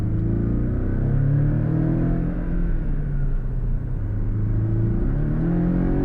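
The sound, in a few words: Porsche 718 Cayman engine accelerating on kick down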